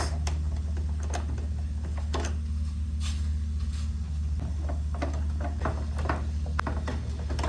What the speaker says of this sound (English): So we have 2, 3, and 4 screws located on the base. So let's remove these.